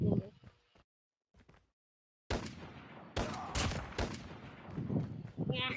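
Sniper and other gunfire in a Battle Royale video game: loud, sharp shots crack out after a brief quiet gap and keep coming in clustered bursts, with people talking over them.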